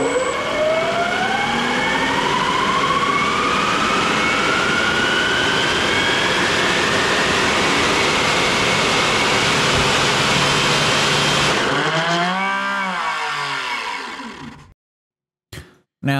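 A 3D printed 170mm EDF turbine fan runs at full power, a loud, steady roaring whine with rising and sweeping tones, then winds down and cuts out near the end.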